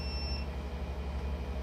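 Alarm system test beep, a steady electronic tone holding throughout with a higher pitched beep fading early, fairly loud and close with no talk.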